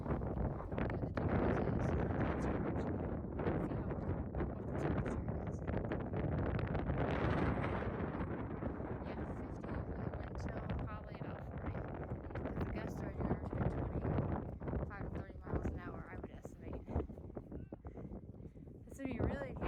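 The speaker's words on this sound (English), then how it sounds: "it is ridiculously windy and cold" Strong wind buffets the microphone on the 5,516-foot summit of Big Bald on the Appalachian Trail, a loud continuous roar with gusting surges throughout, and voices talk over it.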